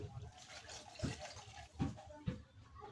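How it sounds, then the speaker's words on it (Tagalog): Water poured into a cooking pot while crispy pata is being prepared, heard as a continuous wash of liquid noise with a few sharper splashes, quiet and fairly close. "At lalagyan natin ang tubig"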